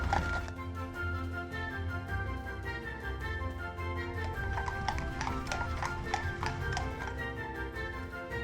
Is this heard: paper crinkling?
no